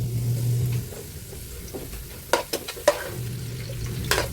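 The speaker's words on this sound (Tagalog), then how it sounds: "Magigisa naman tayo ng bawang." Garlic sautéing in hot oil for beef caldereta, giving a soft continuous sizzle broken by several sharp clatters and scrapes of a utensil against the pan.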